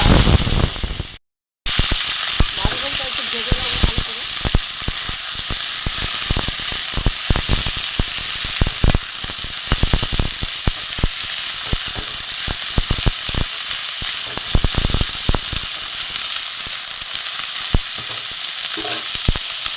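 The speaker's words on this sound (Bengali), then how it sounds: "বাঁধা কপিটা মোটামুটি ভাজা হয়ে গেছে" Shredded cabbage and mixed vegetables frying in a pan for a vegetarian chorchori, a loud continuous sizzle broken by frequent scraping stirs of a spatula, close and without speech.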